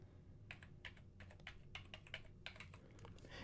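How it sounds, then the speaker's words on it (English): Close, quiet clicks of fingers typing on a computer keyboard come in short irregular bursts of keystrokes over a faint steady hum. "I'll go ahead and click and type something."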